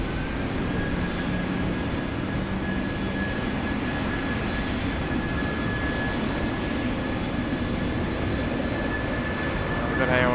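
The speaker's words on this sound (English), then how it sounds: "We've got our Garuda friends as well there, just creeping up behind us there on taxiway Alpha." A Garuda airliner taxis on taxiway Alpha at Sydney Airport, its engines giving a loud, continuous jet roar and whine that holds steady throughout, with a faint voice partly under the noise.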